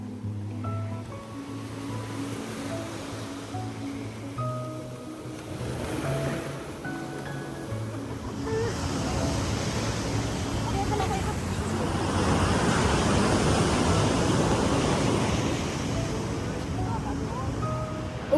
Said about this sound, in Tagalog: Another wave.